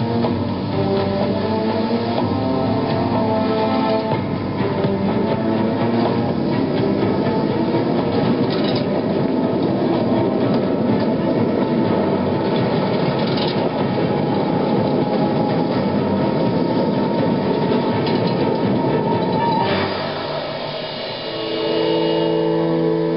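A mine cage lift drops down a Siberian nickel mine shaft, giving a steady, loud rumbling rattle with a rail-like clatter and hum that holds for the whole ride and eases briefly near the end.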